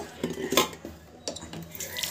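Water splashes and sloshes in a mixer-grinder jar, with light clinks as the jar is rinsed, quiet and close.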